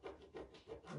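A rub-on transfer pressed onto a surface with firm back-and-forth strokes, making four rhythmic scraping swipes that swell and fade, close and alone.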